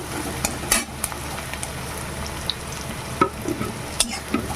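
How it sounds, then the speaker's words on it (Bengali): Onion frying in oil gives a constant close sizzle, overlaid by occasional clinks and scrapes of a utensil stirring in the pan. "এবার পেঁয়াজটাকে একটু ভেজে নেব"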